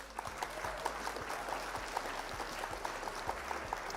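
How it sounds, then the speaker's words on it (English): Faint, steady applause from a crowd, a soft patter of many claps blended into a continuous wash, heard from a distance. "A round of applause for all of you."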